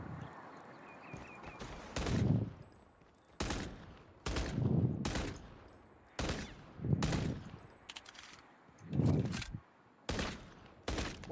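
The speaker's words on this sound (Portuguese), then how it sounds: "Olha os tiros." Bursts of rapid gunfire from Call of Duty: Mobile crack out repeatedly, separated by short pauses, with a busy, synthetic game-like background and sustained noise between volleys.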